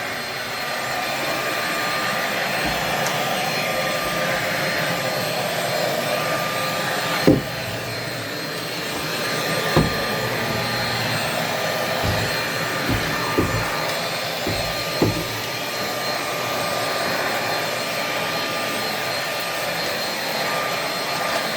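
A vacuum cleaner hums with a steady, continuous drone while cleaning a bedroom floor, with a few soft bumps and knocks scattered through the run and no talking.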